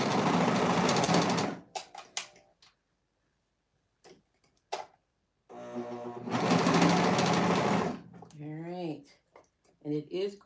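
A home sewing machine stitches through four layers of fabric while a tee is sewn, running in two long steady bursts separated by quiet handling noises and brief clicks, with a person talking near the end.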